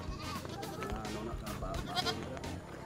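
Goats bleat at a busy livestock stockyard, with a few wavering cries rising over the crowd's chatter and general background noise.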